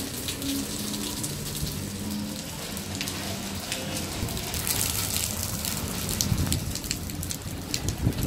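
A wind and rain storm in Porto, with steady heavy rain pattering and gushing close by and gusts of wind building toward the end, with no voices.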